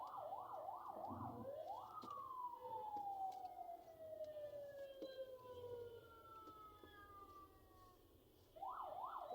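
An ambulance siren stuck in a Dhaka traffic jam sounds from a moderate distance. It runs through quick rising wails, then one long falling tone, and resumes the fast wail at the end over low traffic rumble.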